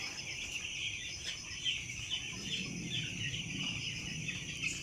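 Eleven-day-old broiler chickens in a grower house in the afternoon, many faint high chirps and peeps overlapping continuously over a low background hum, no voices.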